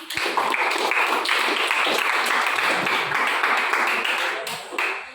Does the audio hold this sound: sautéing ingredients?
no